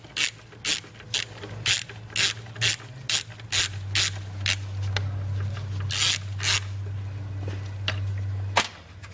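A ratchet tightens a bolt on an extension at the fuel rail of a Volvo 850, giving a steady series of close, crisp clicks in bursts over a constant low engine-bay hum.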